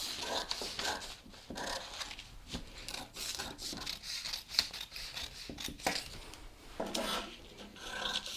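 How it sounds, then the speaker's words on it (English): Scissors cut a paper sewing pattern piece with a steady run of crisp snipping and rasping strokes, close and fairly quiet, with no talking. "the easiest way to do this is to just cut out the piece we're working with"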